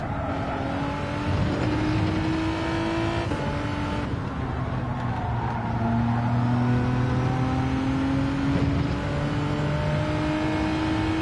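A Subaru BRZ engine in a racing video game revs and accelerates through gear changes, a loud steady drone rising in pitch with shifts, accompanied by tyre and wind noise and no talk.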